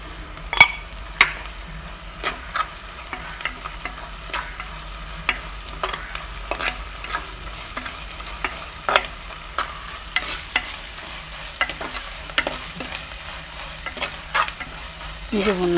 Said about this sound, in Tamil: இதில் இஞ்சி பூண்டை போட்டு வதக்கிடுவோம்